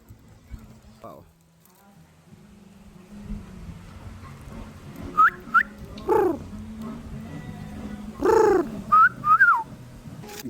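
Birds at Eco Park in Palacapac, Candon City, Ilocos Sur give several short, sharp whistling calls and a few cooing notes in the middle and later part, close by, over low background rumble and a voice murmuring.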